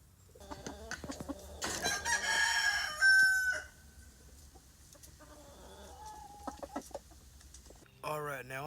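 A rooster on a farm crows once in a loud, drawn-out, strained call, amid scattered clucks and other fowl sounds, with someone talking quietly nearby.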